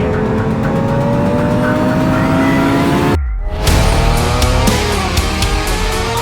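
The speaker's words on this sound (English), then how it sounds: "The best way to enjoy a middleweight motorcycle is to rev the hell out of it" A middleweight motorcycle engine revs hard, climbing in pitch loud and close, cutting off briefly on a gear change, then pulling up again in a rising whine.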